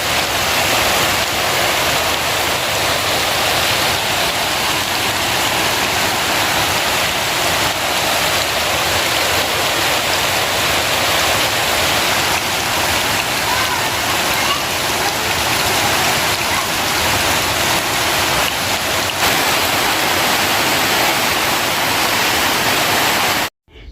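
Heavy rain pours over a yard, its water current washing leaves away, a dense, loud, steady hiss of rainfall and running water lasting the whole stretch before cutting off abruptly, with no talk.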